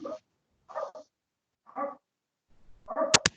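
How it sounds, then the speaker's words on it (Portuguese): A dog gives a few separate barks and yips with pauses between them, heard through an open microphone on an online call, fairly close and moderately loud. "O cachorro do Francisco."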